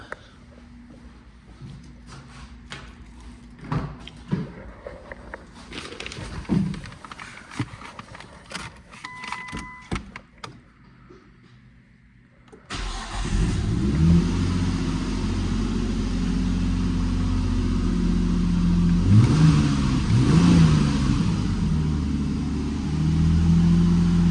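Keys jingle and an interior rattles before the engine of an R34 Nissan Skyline cranks and catches, then settles into a loud, rumbling idle with a few revs.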